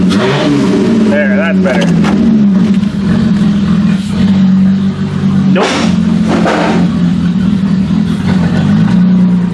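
A new-body Toyota Camry engine turning over and catching, then running with a steady mid-pitched hum and a few revs, loud and close, with someone talking over it.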